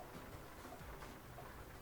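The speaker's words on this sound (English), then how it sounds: "Lovely bit of rain." Rain falls in the Euro Truck Simulator 2 driving game as a faint, even wash of hiss that never lets up, with no distinct drops or voices.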